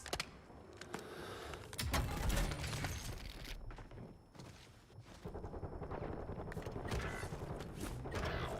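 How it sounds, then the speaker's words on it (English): Mechanical clicks of a weapon magazine being swapped in a first-person shooter video game, set against a dense, loud bed of gunfire and battle noise with no pause. "Switching mags!"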